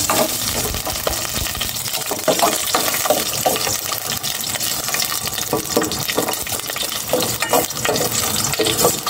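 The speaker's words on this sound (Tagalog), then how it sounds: "Ang bilis uminit kaya ilagay ko na itong bawang." Garlic sizzling in hot cooking oil, a dense steady crackle and spatter that holds loud and close throughout, with some clinks and stirring mixed in.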